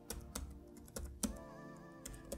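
Key clicks from typing a command on a computer keyboard, a quick irregular run of close, crisp taps with short pauses between bursts, no talking.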